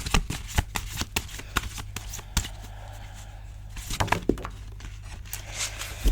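Tarot cards are shuffled by hand in a string of sharp, papery riffles and taps, some louder than others, close to the listener with quiet gaps between bursts.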